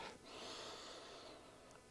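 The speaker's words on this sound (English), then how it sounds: "Let's give this a quick sniff test." A single close, drawn-out sniff at a worm compost bin of moldy, decomposing tomatoes, a breathy inhale lasting over a second in a quiet setting.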